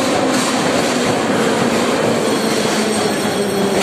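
Metro train rolling into Palats Sportu station on the Kharkiv underground, a loud sustained rumble of wheels on rails with squealing tones, close and continuous throughout.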